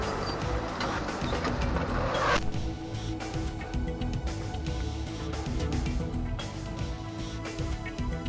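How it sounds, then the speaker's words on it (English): A car's interior road noise comes through a dashcam as the vehicle approaches a T-junction, with a steady engine and tyre rumble and a brighter rushing layer that drops away after the first couple of seconds, plus a few faint clicks. "The dashcam unit captures the last few seconds as his vehicle approaches the T-junction."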